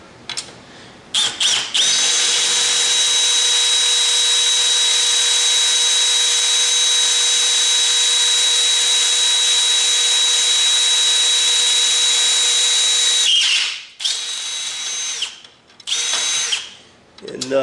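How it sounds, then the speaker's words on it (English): A power drill with a 1/4 inch bit whines loudly and steadily for about twelve seconds while boring into hard steel, then slows and stops with a few short bursts. "I'm going to switch my drill down to a 1/4 inch"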